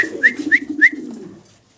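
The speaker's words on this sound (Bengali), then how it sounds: "চমৎকার এক জোড়া লাহোরি কবুতর দেখতেছি" A pair of Lahori pigeons cooing close by, three or four clear, rising calls in quick succession over a soft low murmur, then fading to quiet.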